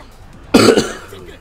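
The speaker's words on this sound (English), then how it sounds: "Sorry for the cough guys" A single sharp cough, loud and close, breaking briefly through an otherwise quiet background.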